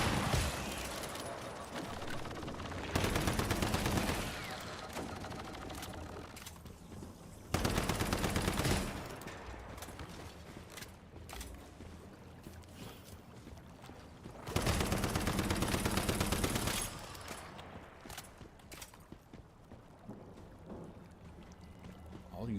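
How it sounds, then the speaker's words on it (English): Automatic gunfire in the survival shooter Once Human, firing at the player in loud sustained bursts that recur every few seconds over in-game ambience. "something is shooting at me"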